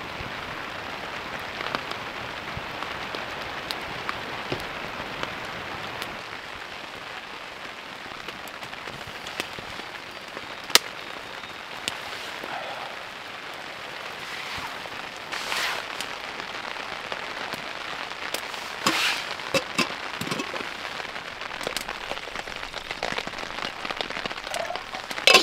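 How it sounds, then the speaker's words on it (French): Steady rain pattering on water, an even hiss of countless drops with occasional louder splashes, continuous and close, no voices. "Il y en a beaucoup qui adorent le son de la pluie"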